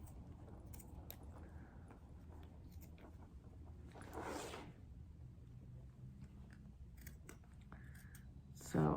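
Scissors trimming the fabric seam allowance of a sewn backpack purse, a few soft snips and a longer rasping cut midway over a low room hum, with faint talk in the background.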